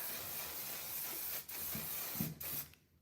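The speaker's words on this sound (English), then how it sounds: "with this spray, you definitely want to hold it from a distance and spray it" Makeup setting spray hisses from a bottle in a few long continuous bursts, broken by short pauses, close and steady before fading out at the end.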